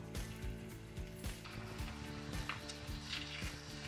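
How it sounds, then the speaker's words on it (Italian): Zucchini sizzle and fry in hot oil, a steady crackling hiss with scattered pops and stirring clatter, close and continuous with no talk. "In questo caso inizia a sfrigolare quindi possiamo andare ad inserire le nostre zucchine."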